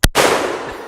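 A single .44 Magnum lever-action rifle shot fired at a steel target outdoors: one loud, close crack followed by a long rolling echo that fades slowly.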